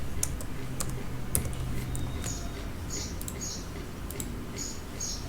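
Someone types on a computer keyboard while writing JavaScript and HTML code, a close run of quick, uneven key clicks with brief pauses, alongside a few sharper mouse clicks and no speech.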